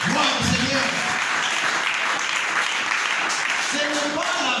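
A church congregation applauds loudly and steadily, dense clapping filling the whole stretch with voices calling out beneath it.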